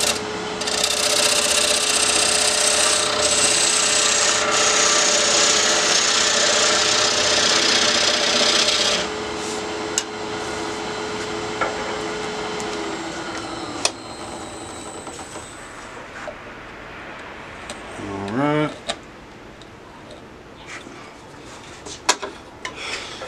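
Lathe spindle turning a pignut hickory vase during a touch-up, a loud abrasive whirring rasp with a steady tone that cuts off, then winds down with a falling pitch and scattered knocks.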